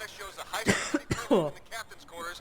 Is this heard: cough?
yes